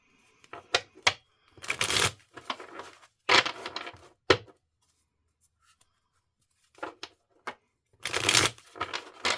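Tarot cards are shuffled and handled in several quick riffling bursts, close and crisp, with pauses of near silence between them.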